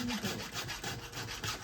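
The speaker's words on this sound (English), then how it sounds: "you hear that kind of screechy noise a little bit, and you'll also feel a bit more grit on your file" Hand file rasping on a chainsaw chain during sharpening, quick rhythmic back-and-forth strokes with a gritty, slightly screechy scrape, close and fairly quiet.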